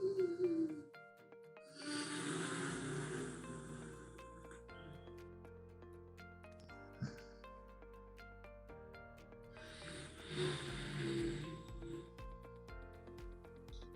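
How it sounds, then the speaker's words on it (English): Ujjayi pranayama throat breathing, a soft hissing, snore-like rasp on two long breaths, the first from about two to five seconds and the second near ten to twelve seconds, heard close over a sustained musical background. "Ujjayi Pranayam is the throat breathing."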